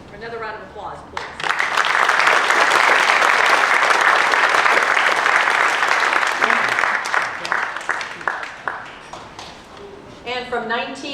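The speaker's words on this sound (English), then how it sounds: "Another round of applause, please." Loud, sustained applause from an audience at a city veterans recognition ceremony in La Quinta, swelling quickly and holding steady before thinning into scattered claps, with voices at the edges.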